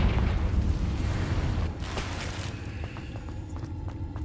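A Confringo fire spell blast in the game Hogwarts Legacy, a heavy rumbling explosion that booms at first, then fades into a quieter tail with light scattered clicks.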